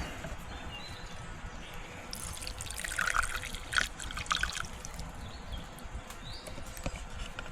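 Gasoline trickles and splashes steadily from a Suzuki DF25A outboard fuel filter, a continuous close liquid pour with a slightly louder stretch midway.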